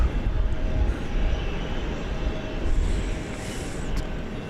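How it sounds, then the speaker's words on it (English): Airplanes come and go at DFW Airport, a distant, steady jet roar with broad low rumble that swells and fades slightly across the stretch. "Well, all sorts of planes coming and going."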